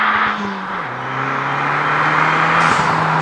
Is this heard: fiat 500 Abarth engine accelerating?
yes